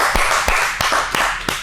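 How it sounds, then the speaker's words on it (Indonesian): A few people clap their hands close by, sharp separate claps in an uneven rhythm over a hissy background. "Tepuk tangan guys."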